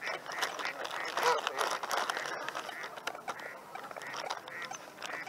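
Mallard hens quacking, probably several ducks calling in a steady ragged series, fairly close, with people talking over them.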